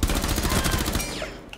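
Rapid bursts of gunfire are heard, fired through a wall in the video game Rainbow Six Siege. The shots rattle in quick, dense succession and then fade into a thinner, trailing tail.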